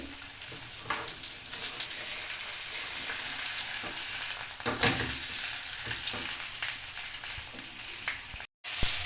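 Fish fries in a pan over a high flame with a steady, close, loud sizzle and hiss that holds for the whole stretch, with a brief dropout near the end.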